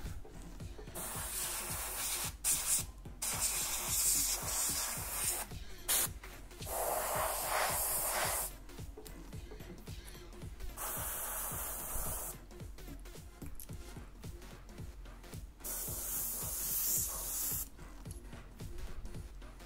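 Airbrush spraying black paint onto a softball helmet, a steady close hiss of air and paint in long bursts broken by brief stops, with a faint rhythmic compressor thump underneath.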